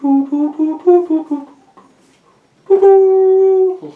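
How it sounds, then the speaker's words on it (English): A MIDI-synthesized flute tone plays a short run of separate notes, pauses, then holds one long sustained note, clear and alone. "And I could change that to a flute."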